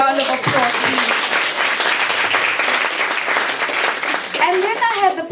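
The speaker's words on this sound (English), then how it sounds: "Let's give him a big round of applause, please." Applause fills a book-launch hall for a sustained five seconds, a thick, even wash of many hands clapping, with a voice audible over it at the start and again toward the end.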